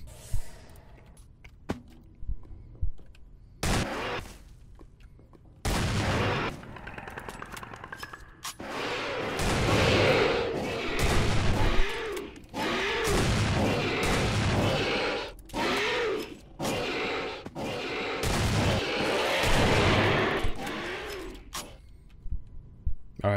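Rapid blasts from a double barrel shotgun in the Minecraft AVP video game, a dense run of sharp booming shots mixed with game noise and creature sounds, loud throughout with no talking.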